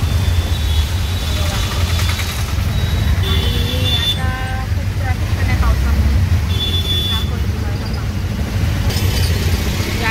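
Road traffic on a rainy day, with a steady low engine rumble and several horn toots nearby, heard from a moving vehicle.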